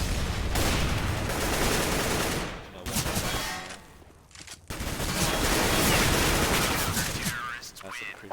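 Counter-Strike gunfire: dense bursts of automatic weapon shots packed into rapid volleys, with brief lulls between exchanges and a voice talking over parts of the action.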